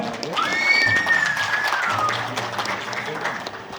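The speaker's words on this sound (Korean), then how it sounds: "큰 박수 한번 보내주세요" Audience applause at a Korean award and certification ceremony, a sustained wash of clapping across the whole stretch, with a thin whistle-like tone and a voice over it early on.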